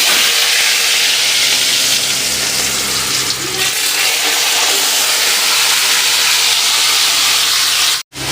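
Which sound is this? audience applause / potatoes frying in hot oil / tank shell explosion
potatoes frying in hot oil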